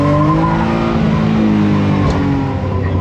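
A Honda CRX with a B18 engine circles a skid pad, its engine droning loud and steady at close range with a sustained tire squeal layered over the note throughout.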